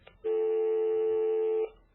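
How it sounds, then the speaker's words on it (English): A telephone gives a single steady electronic tone lasting about a second and a half, loud and clear with nothing else around it. "the phone rang, and then nobody was there"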